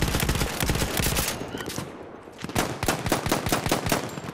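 Battlefield 1 video game gunfire of old-era weapons: rapid bursts of loud shots crackle through the first second and a half, pause briefly, then resume as repeated sharp cracks and automatic fire.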